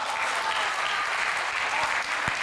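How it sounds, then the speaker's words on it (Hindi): Audience applause at a Hindi comic poetry gathering (kavi sammelan), dense steady clapping from a large crowd filling the whole stretch at an even loudness, with a couple of sharper individual claps standing out near the end. "आप तालियां जितनी घनीभूत करेंगे मैं और आगे बढ़ूंगा"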